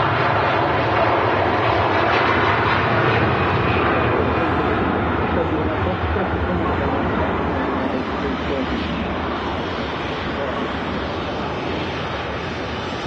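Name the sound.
Turkish Airlines A330 with Trent 700 engines taking off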